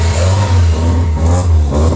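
A Honda Civic engine with a freshly swapped D16Z6 revs up close and loud, its pitch rising and falling in a couple of throttle bursts over a rough idle.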